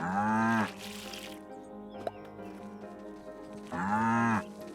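Two loud, drawn-out cow moos close by in the video game Staxel, one at the start and one near the end, with quieter barn shuffling and a small knock between.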